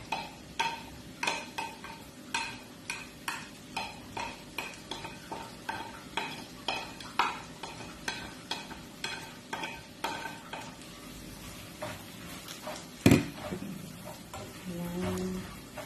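Garlic frying in a pan while a spatula stirs it in steady rhythmic scrapes, a soft sizzle underneath, one sharp clank near the end and a voice speaking faintly.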